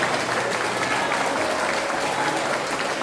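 A church congregation applauds during a Sunday evening service, dense and continuous clapping filling the room at steady loudness for the full stretch with no pause.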